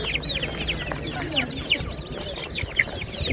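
Brahma chickens cluck in quick, overlapping bursts at a busy bird market in Kropotkin, with chirps from other birds and low crowd noise around them.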